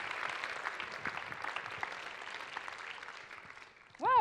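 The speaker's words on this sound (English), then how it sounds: "Applause. Applause. Well done." Audience applause at an award ceremony for TEDxAmsterdamED 2016, a steady wash of clapping throughout, ending with a brief bright musical chime.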